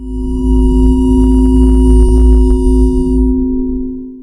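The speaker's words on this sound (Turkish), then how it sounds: "metalik titreşim ses efekti şeklinde değişik bir prompt yazdım" A steady AI-generated metallic vibration with bright ringing overtones and faint crackling flutters, holding for about three seconds before the high shimmer drops away.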